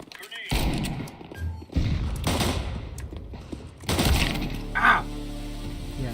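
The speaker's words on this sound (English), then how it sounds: "Grenade" Explosive bursts and sharp cracks from a video game firefight as a grenade goes off among loud gunfire, with a player's voice talking over the chaotic clatter.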